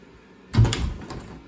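A locked door being rattled, a single loud jolt followed by a short burst of clattering and a fading knock, heard alone at close range.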